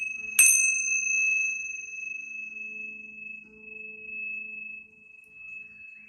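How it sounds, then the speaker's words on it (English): A tingsha bell is struck once for tarot deck cleansing, giving a sharp metallic strike followed by a long, steady, pure ringing tone that sustains and slowly fades in a quiet room. "I'm just going to use the tincture bell, so cover your ears if you're sensitive, just to cleanse the two decks that I have been using."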